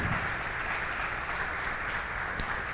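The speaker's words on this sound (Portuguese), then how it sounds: "Aplauda o Senhor bem forte." Dense, steady applause fills a church as the congregation claps for the Lord during an evangelical service, an even, continuous patter at moderate level with no pauses.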